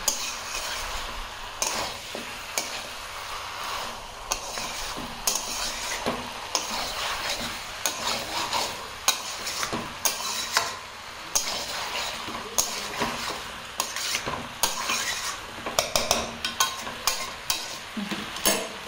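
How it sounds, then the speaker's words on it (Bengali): Meat being stir-fried with ground spices for a spicy curry in a pan, with a steady sizzle and repeated scraping and clinking of a spoon against metal throughout. "সমস্ত গুঁড়ো মশলা দিয়ে এবার মাংসটাকে ভালো করে কষিয়ে নেব।"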